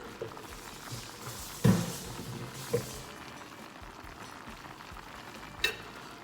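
Shrimp fry in a hot pan with a soft, steady sizzle, broken by a few sharp clanks and scrapes from utensils against the pan.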